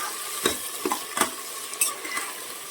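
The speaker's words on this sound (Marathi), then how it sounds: "दोन ते तीन मिनटं आपल्याला हे सारण व्यवस्थित परतून घ्यायचं आहे" Dal and potato khichdi filling sautéed in a pan, with a spoon scraping and stirring in several distinct strokes over a steady close sizzle.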